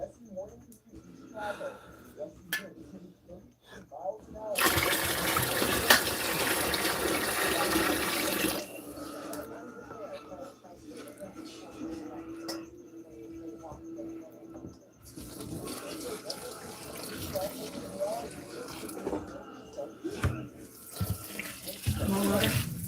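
Tap water runs steadily into a bowl indoors, a sustained hiss and splash that swells loud for a few seconds, drops back, then returns, with people talking close by.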